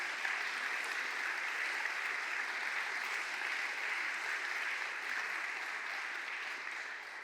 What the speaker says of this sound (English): From the applause we can hear